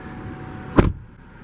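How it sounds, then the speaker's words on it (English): A single solid thud of a 2016 Chevrolet Impala 2LT V6 car door shutting, close and sharp, rising briefly out of a quiet interior hum before cutting off. "We'll go ahead and close the door."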